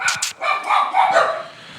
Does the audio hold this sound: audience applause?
no